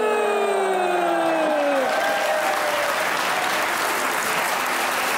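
Studio audience on a Pakistani comedy talk show applauds steadily throughout, a dense wash of clapping that rises in after a brief moment of overlapping voices and tonal sounds at the start.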